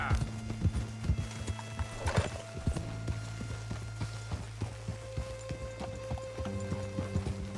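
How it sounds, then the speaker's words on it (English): Rhythmic hoofbeats of a galloping horse in the video game Red Dead Redemption 2, with a brief whinny, steady and fairly close, over a low background hum. "Mount up then, Morgan. Let's go then. Oh, poor horse. Whoa there."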